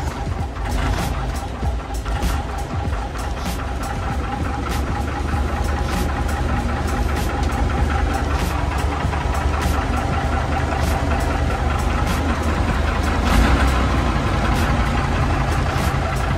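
Engine of a tour bus idling steadily and loudly up close, a continuous low rumble with a faint knocking texture throughout.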